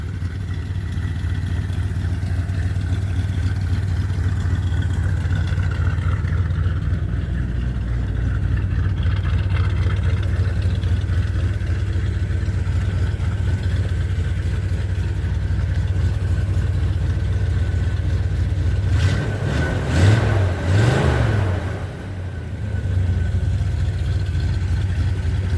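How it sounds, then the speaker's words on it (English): A 1978 Chevy C10 pickup engine runs at a steady, loud idle close by throughout, with a brief rev and some clatter rising near the end before settling back to idle; no one speaks. "he'd like to hear the motor run if I would just hush and let him hear it."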